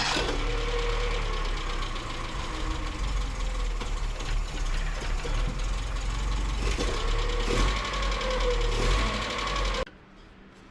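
A 1977 Datsun B210 engine with a newly installed fuel pump runs steadily at a low, somewhat rough idle, close and loud throughout, then cuts off abruptly near the end, leaving quiet.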